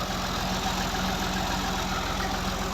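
A Fiat 480 tractor, unloaded and standing still, idles steadily while driving a water pump, its engine giving a loud, even, rapid chugging that continues without a break.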